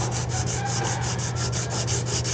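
Putty on a camper van body is sanded by hand, a rhythmic scratchy rasp of quick back-and-forth strokes, about a dozen in steady succession, close and uninterrupted.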